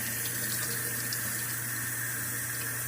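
Water running steadily from a tap while tie-dyed fabric is rinsed, a constant close hiss and splash with no break and no voices.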